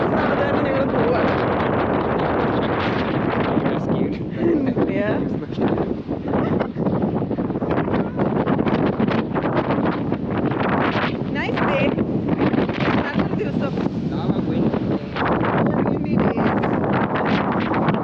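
Strong wind gusting at the Port Dalhousie lakeshore, a loud rumbling buffet of air battering the microphone that runs unbroken throughout, swelling and dipping slightly between gusts.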